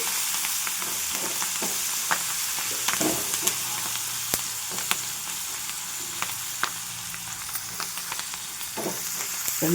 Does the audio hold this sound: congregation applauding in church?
no